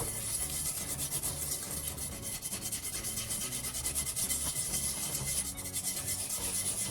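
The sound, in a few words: steel scrub pad scrubbing a scorched pan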